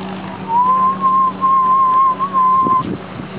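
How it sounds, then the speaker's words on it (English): Steam blowing off an engine at a tractor and steam engine show, a steady high whistling tone holding for about two seconds over a low rumbling drone, with a few soft knocks as it cuts off. "This guy's just blowing the steam off over there."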